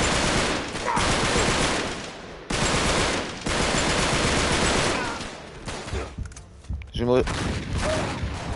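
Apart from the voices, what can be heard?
gunfire shooting at the player in the video game Uncharted 3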